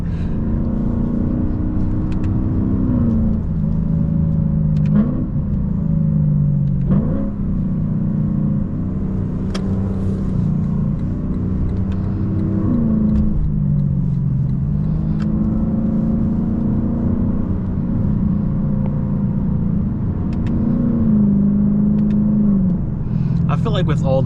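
A Lexus LC 500 runs steadily through traffic, heard from inside as a continuous low engine drone with periodic rising and falling shifts under near-constant talking.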